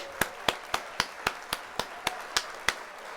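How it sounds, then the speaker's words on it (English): Evenly spaced single claps, about eleven in just over three seconds, play as an applause effect on a livestream. Each clap is crisp and moderately loud against a quiet background, with no voices. "Let's hit the old applause there."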